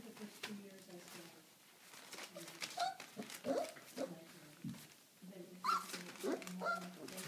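A puppy gives faint, high whimpers and little yips alongside an older dog in a home, set under quiet talk.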